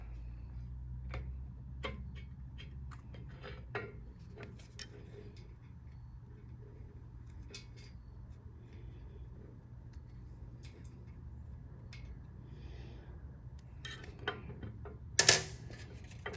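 A wrench works on a cam bearing in an LS 4.8/5.3 engine with quiet, irregular ratcheting clicks and a sharp metallic clank near the end.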